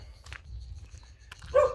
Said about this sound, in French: Alors, ça aboie tout le temps.